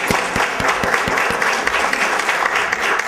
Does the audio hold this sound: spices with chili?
no